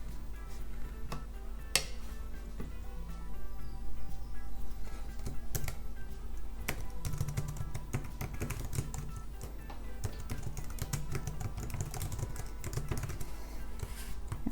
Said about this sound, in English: I'm just going to show you how easy it is. If I just type hello,